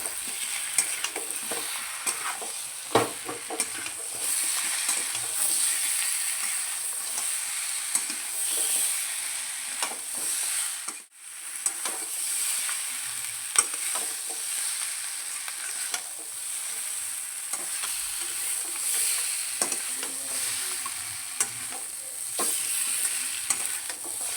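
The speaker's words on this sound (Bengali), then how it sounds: "ভেজে রাখা মাছের মাথা আর আলুগুলো দিয়ে দেবো খুব ভালো করে একসঙ্গে কষিয়ে নেব" Fried katla fish head and potato pieces are stirred into sizzling masala in a pan, giving a continuous close frying hiss with scraping stir strokes and a short pause midway.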